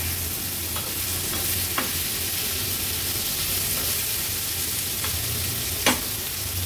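Dried bombil fish and kokum being stirred in a hot pan, a steady soft sizzle with occasional sharp scrapes of the spoon, close and without talk.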